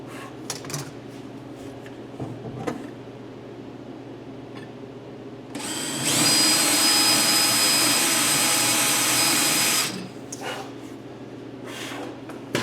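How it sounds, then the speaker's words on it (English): A power drill whirs loudly for about four seconds in a steady high-pitched burst, drilling a screw hole in a curio cabinet, with quieter handling sounds and light knocks before and after. "I drilled the hole just slightly tighter than the shaft of the screw"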